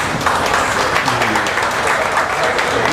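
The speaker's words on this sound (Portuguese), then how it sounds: "Salva de palmas aí para..." A seated audience at the FENICAFÉ coffee event applauds, giving three seconds of dense, steady clapping that fills the room at close range and stays loud with no talk over it.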